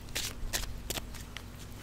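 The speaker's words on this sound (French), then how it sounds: "Je coupe, on va déjà couper." Tarot cards being cut and shuffled by hand, a few quick papery riffles and flicks close up, quiet and alone with no talking.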